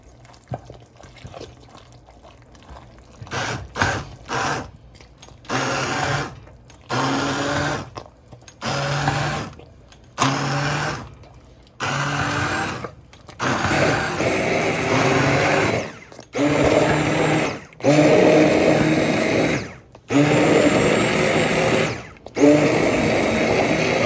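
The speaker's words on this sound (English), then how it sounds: "I use the hand blender to expedite the process" A hand blender purees cooked apples for applesauce, whirring in repeated bursts of a few seconds each with short pauses between, growing louder and steadier toward the end, close and with no talk.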